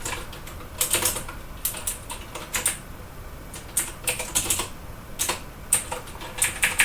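Keys clack on a computer keyboard in quick irregular bursts separated by short pauses, close and crisp, with no talking.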